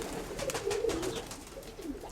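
Soft, low pigeon coos ripple in a short burst, close by, with faint background rustle and no talking.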